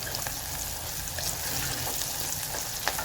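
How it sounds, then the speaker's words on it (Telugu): Onions frying in a pan with turmeric and salt give a steady, fairly loud sizzle with faint crackles and small stirring clicks throughout, with no voices. "ఆనియన్స్ త్వరగా వేయడానికి కొంచెం సాల్ట్ వేస్తున్నాను"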